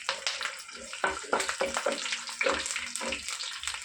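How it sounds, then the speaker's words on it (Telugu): Garlic cloves fry lightly in a pan while gongura chicken fry is being made. A steady soft sizzle runs under repeated scraping and stirring taps, close by. "ఎల్లిపాయ కూడా లైట్గా ఫ్రై చేసుకున్నాము"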